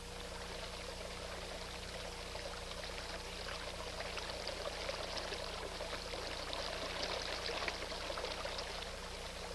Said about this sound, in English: I closed my eyes and listened to the stream.